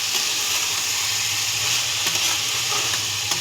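Mutton liver and fat, cooked with soybean chunks, sauté in a pan with a loud, unbroken sizzle close by. Occasional faint scrapes come from stirring.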